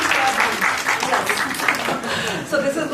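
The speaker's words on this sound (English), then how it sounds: "I think we need to all clap for ourselves." A conference audience applauds in a hall, with a steady burst of clapping from many hands for about three seconds, while a voice and some laughter mix in.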